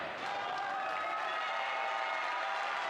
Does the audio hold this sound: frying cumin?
no